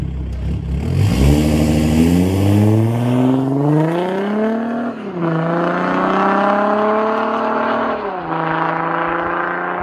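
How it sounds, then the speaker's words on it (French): An Audi A4 B8 engine revs up hard several times through its aftermarket exhaust line, the exhaust note climbing and dropping in loud, raspy sweeps with no talking. "Même avec une ligne ça chante vraiment fort,"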